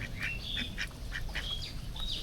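Rapid, repeated quacking from a few domestic ducks, close and fairly loud, over a constant low background rumble.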